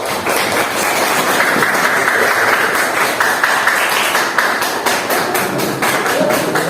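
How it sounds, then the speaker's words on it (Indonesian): An audience claps for a group presentation at a teachers' training session, giving a sustained burst of dense, loud applause with rhythmic clapping throughout. "Tepuk tangan dulu kok."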